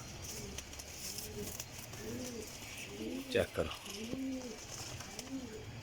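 A Pipla-breed kajal pigeon coos in soft, repeated low phrases, close by, with someone briefly talking in the middle.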